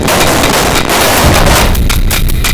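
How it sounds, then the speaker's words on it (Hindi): A tunnel-blasting explosion in Mumbai's Eastern Freeway tunnel: a loud, sustained rumbling blast with broadband roar that fills the whole clip, echoing through the confined space, with no voices. "जिम्मा टनल में धमाके कराना।"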